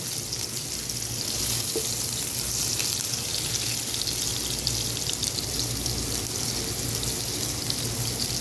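Seekh kababs fry in a pan until golden brown, giving a steady, even sizzle with faint watery crackle that runs unbroken throughout, close and moderately loud, with no voices.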